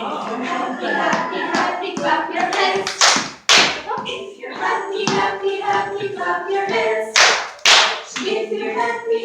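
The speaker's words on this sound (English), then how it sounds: "If you're happy, happy, happy, clap your hands." Preschool children at a grandparents' day performance clap their hands in bursts along to a sung children's song, sharp close claps cutting through the singing voices.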